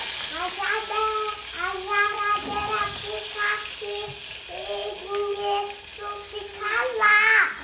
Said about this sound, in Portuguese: Coloquei uma alhinha pra fritar pra gente fazer um arrozinho.